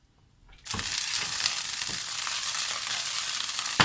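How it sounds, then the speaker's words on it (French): Asparagus spears hit a hot pan after a moment of near silence, and a loud, dense sizzle follows and holds steady, close and unbroken to the end. "on va les faire dorer, ces asperges"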